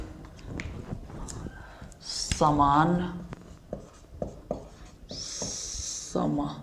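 Chalk strokes and taps on a classroom board during a physics lesson, intermittent scratches and clicks interleaved with a teacher's speech and soft breaths.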